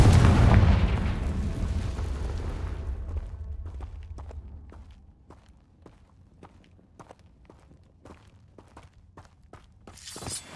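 A Confringo blasting spell in the Hogwarts Legacy video game erupts in a loud, broad explosive burst that decays over a few seconds, followed by a series of sharp, sparse clicks and a final bright flare.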